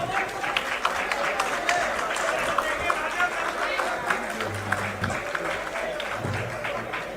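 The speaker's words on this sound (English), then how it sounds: "Please welcome all our guests with a big round of applause." Applause and crowd noise fill a book launch honouring Mallikarjun Kharge, a steady wash of clapping from a hall audience with voices talking over it throughout.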